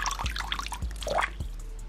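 Water trickling and dripping into a freshly cleaned tarantula water dish, a few soft close drips and splashes over a short stretch, quiet with no talk.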